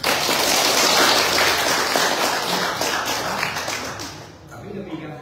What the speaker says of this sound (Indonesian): Tepuk tangan dulu untuk warga.